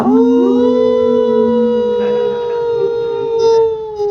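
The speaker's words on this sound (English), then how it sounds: "his howls just like an old hound dog" A dog howls like an old hound, a long, steady, wavering cry that holds close and loud for several seconds, with a slight rise and shift near the end.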